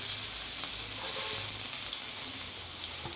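Onions sizzling and frying in hot oil with fennel seeds in a pan while an egg masala is made, a steady close crackle with occasional small pops and no talking.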